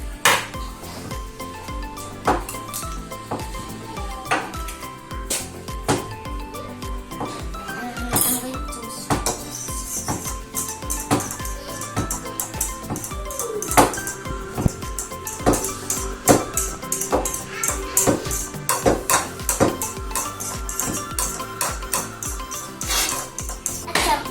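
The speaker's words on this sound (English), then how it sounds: "let's go to crack the egg, and my brother is going to cut it" An egg is cracked and sausage is cut while making a quick lockdown sandwich snack: busy clinks, taps and knocks of knife, plate and shell ring out at close range, steady and irregular throughout.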